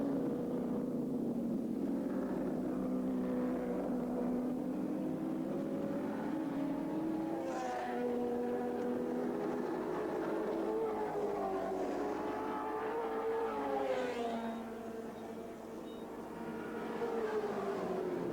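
Touring race cars lap Lakeside circuit in the 1983 ATCC, engines droning and shifting pitch as several cars pass at a distance, a steady continuous roar with rising and falling tones.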